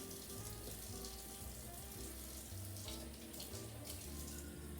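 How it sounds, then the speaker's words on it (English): Warm tap water runs steadily into a bowl for bread dough, a continuous splashing gush with no pauses, close and fairly loud throughout. "The water's running. I'm adding a little extra warm water."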